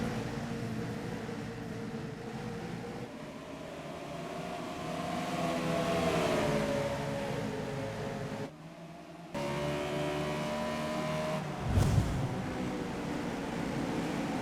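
Race cars including a Chevrolet roar around the first and second turns, a sustained engine drone with shifting pitch that briefly drops out mid-way, then returns loudly with a short burst near the end.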